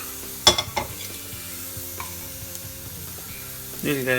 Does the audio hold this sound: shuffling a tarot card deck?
no